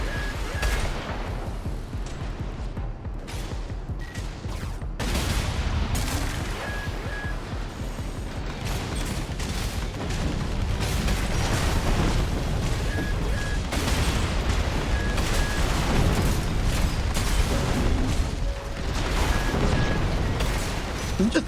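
Rapid barrage of missile launches and blasts from a mech in Armored Core VI, a dense, loud, continuous stream of booming impacts and gunfire-like bursts filling the whole stretch, with a voice speaking over it.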